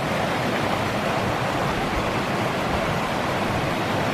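Mountain stream near Gabiet on the Tour of Monte Rosa, a steady, full rushing of water that holds constant and close, with no voices.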